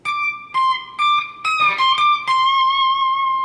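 A single electric guitar plays a solo line from a song: a few sustained notes, a bend, then a long held note with vibrato, clean and close with no voice.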